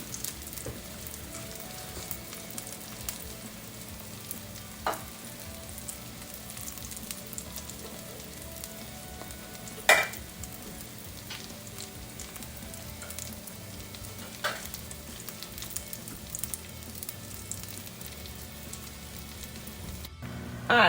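Pinto bean patties frying in a pan, a steady close crackling sizzle with scattered pops and an occasional clink, continuous throughout.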